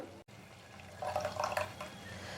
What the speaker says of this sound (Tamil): மிக்சி ஜாரை நல்லா அலசிட்டு ஒரு அரைக்கப் போல் தண்ணி ஊற்றிடலாம்